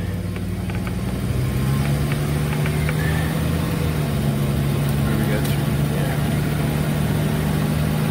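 A converted camper van named Nugget pulls away for its first drive, its engine rising from idle into a steady, close drone, with scattered clicks and light talk in the background.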